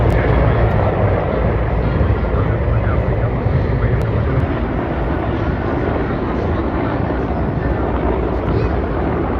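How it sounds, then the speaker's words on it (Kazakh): EMERCOM rescue helicopters fly over a military parade in Astana, producing a loud, sustained engine and rotor roar that stays steady throughout, with a voice blended underneath. "Вертолеты МЧС предназначены для эвакуации пострадавших из зоны чрезвычайной ситуации"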